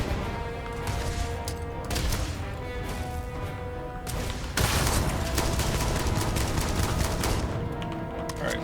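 Sustained gunfire and grenade blasts in the video game Starfield, a dense, loud barrage of rapid shots with a sharper burst of impacts partway through, nearly continuous with no talking.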